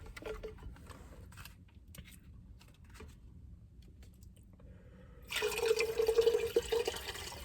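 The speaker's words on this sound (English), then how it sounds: "I'm pouring my water in my bottle." Water is poured into a bottle in a steady, gurgling stream that starts suddenly after a quiet stretch with faint tapping, close by and moderately loud.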